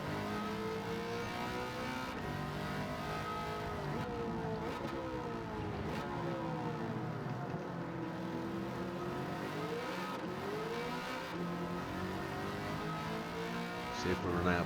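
A Corvette ZR1 C6 from 2009 races in Gran Turismo 7 at Sardegna Road A, its engine note loud and steady throughout, revving up and down with gear changes and someone talking over it.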